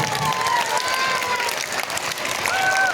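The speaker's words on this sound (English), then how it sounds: "One more big round of applause." Applause from an audience of children, parents and staff at a school alumni gathering, continuous dense clapping with a few faint whistle-like tones over it, steady and fairly loud for the whole stretch.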